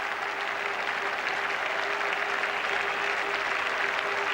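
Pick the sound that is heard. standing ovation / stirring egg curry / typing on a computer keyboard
standing ovation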